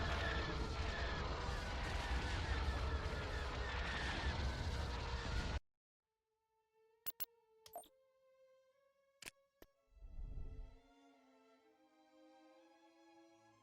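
Cannon fire from a Thrawn's Revenge space battle with Zsinj's Empire forces: a dense, loud, continuous barrage of blasts for about five seconds, then it cuts off abruptly into quiet tonal chimes with a few sparse hits.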